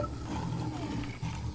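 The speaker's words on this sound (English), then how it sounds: "listen to that roar" A big cat roars in the Zoo Tycoon 2 video game, one sustained low rumbling growl lasting over a second, moderately loud and heard alone.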